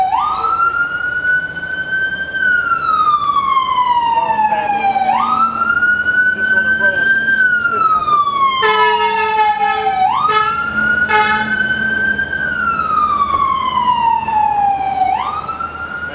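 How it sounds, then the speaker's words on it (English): A loud wailing siren sweeps up and down repeatedly, with a brief burst of rapid yelping tones in the middle, close by and steady throughout. "Let the siren pass."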